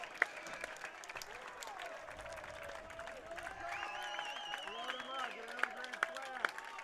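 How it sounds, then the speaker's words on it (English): Fans clap for a two-strike count at a Chatham Anglers home baseball game against the Wareham Gatemen, a soft, distant patter of applause beneath a play-by-play voice, with a few sharp cracks near the end. "Applause all the way around from the Chatham fans"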